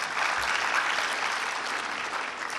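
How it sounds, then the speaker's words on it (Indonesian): Audience applause at the inauguration ceremony of the Kadin Indonesia board, a steady dense clapping from a large crowd filling the whole moment without a break. "Dan ini kita mesti tepuk tangan dong untuk ini."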